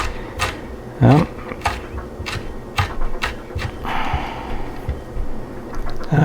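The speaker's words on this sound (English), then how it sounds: "I'm going to line these up with my knife blade, and then just go through and very patiently" Knife chopping jalapeno peppers on a cutting board makes a series of sharp, irregular taps, close and distinct, with short pauses between bursts of cuts.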